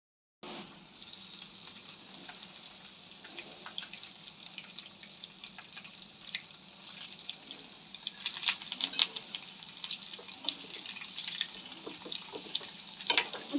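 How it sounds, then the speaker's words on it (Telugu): Mustard seeds, spices and dried red chillies sizzle steadily in hot oil for a Telugu lentil rasam (pappu charu) tempering, a continuous hiss with sharper crackles and pops building in the second half. "తాలింపు అయితే బాగా వేగనిస్తాను,"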